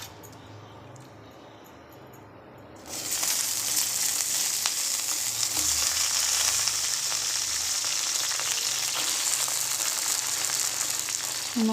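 Chopped eggplant pieces drop into hot oil for a podi curry, bursting into a loud, dense sizzle after a quiet opening of a few seconds and frying steadily up close to the end.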